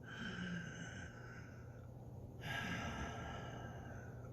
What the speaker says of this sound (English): You breathe in and you make a sound and it brushes against the back of your throat going in and then coming out.